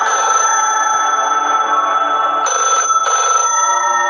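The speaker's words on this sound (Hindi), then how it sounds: "तभी एकदम से एक टेलीफोन की घंटी बजने लगी।" A telephone bell rings loudly and continuously, with a brief gap before the ringing resumes in bursts.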